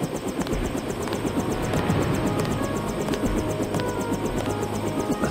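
A helicopter in the video game Deus Ex hovers nearby, its dense rotor chop and engine roar steady and loud throughout with no voices over it.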